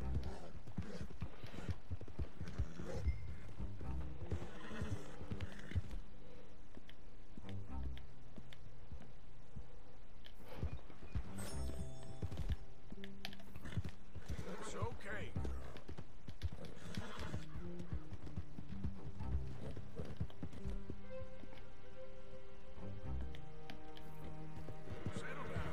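A horse in the video game Red Dead Redemption 2 whinnies and its hooves clop steadily over a busy, layered background, with voices talking at times throughout.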